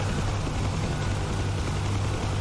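A helicopter in a VR flight simulator game drones loudly and continuously, its rotor and engine producing an unbroken, close, throbbing roar.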